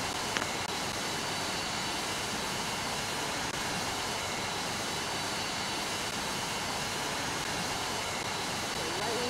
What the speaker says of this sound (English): Here we go, taking off, runway 36R.